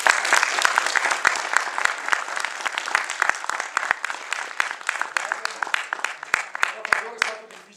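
A theatre audience in an auditorium in Marano Vicentino applauds the Vicenza Ensemble Teatro company, loud, sustained clapping from many hands with crisp individual claps standing out, continuing steadily throughout.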